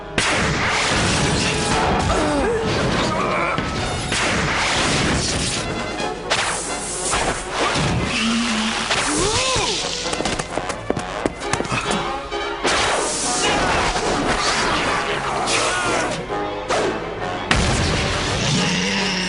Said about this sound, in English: Three more sonic grenades should do the trick.